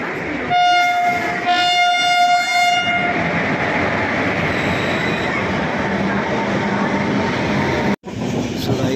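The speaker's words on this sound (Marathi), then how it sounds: "आत्ताच आपली ट्रेन सुटली आहे ठाण्यावरून" A Mandovi Express train departing Thane station rumbles steadily with a long horn blast near the start, continuous clatter and noise of rolling cars.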